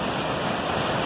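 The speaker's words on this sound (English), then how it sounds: "Enjoy this waterfall." A small waterfall pours in a steady, dense hiss of rushing water, close and continuous with no voices over it.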